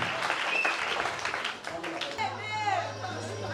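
A church congregation applauds and cheers, with dense clapping and crowd chatter; voices rise over it and a low steady hum enters halfway through.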